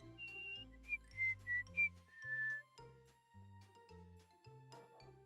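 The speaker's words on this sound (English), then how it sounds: "She whistled or what?" A short melodic whistle in the Fallout 3 video game, a few quick rising notes followed by a longer held tone, over soft background music.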